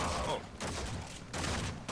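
Dense, rapid gunfire rattles continuously during a boss fight in the shooter game Warframe, loud and close with brief dips between bursts.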